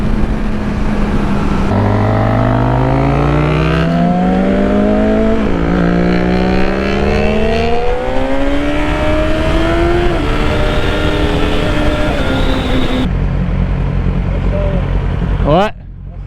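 A Yamaha R6 motorcycle engine revving hard on a highway, rising and shifting through gears with strong whining harmonics and wind rush, loud and close, with a voice heard over it.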